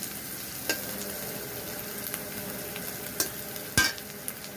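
Kolai greens stir-frying in a pan make a constant sizzle broken by several sharp scrapes and clatters of a spatula against the metal, heard close with no talking.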